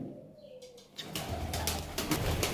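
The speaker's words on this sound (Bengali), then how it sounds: "এই দেখুন পায়রা দেখুন, এটা মাদা পায়রা আছে" Lal dum, kal dum and homer pigeons coo in low, throaty rolls close by in a loft, mixed with rustling and a brief flutter of wings.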